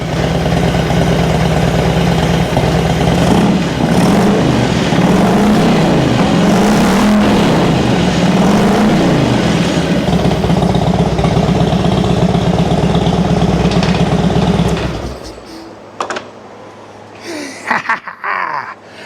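A 1999 Harley-Davidson Road King engine runs loud and steady close by with a throbbing rumble and small revs, then cuts off, leaving quiet clicks and movement.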